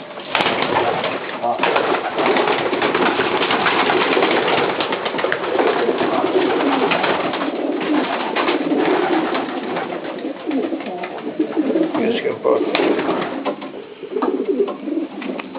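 Hundera pigeons in Kuçova coo repeatedly and close by, a steady murmur of throaty calls layered throughout, while people talk over them.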